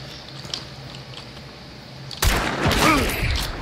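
A single sharp gunshot in the online shooter Hunt: Showdown cracks out loud and close after a quiet stretch, followed by a short burst of lingering gunfire rumble and ringing.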